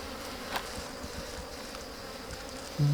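Honey bees swarm and buzz at a nest dug into the ground during wild honey harvesting, a steady dense drone filling the scene, close and continuous, with a brief louder knock near the end.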